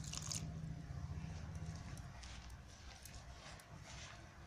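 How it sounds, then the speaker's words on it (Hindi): A small splash of water goes into flour for dahi methi puri dough, heard as faint drips and soft wet squishing as the mixture is worked by hand, quiet and close, with no talking. "थोड़ा सा पानी डालेंगे"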